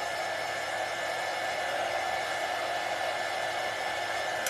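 A hair dryer blowing steadily up close to dry chalk paint, a constant loud whooshing hum that holds unchanged throughout with no talking.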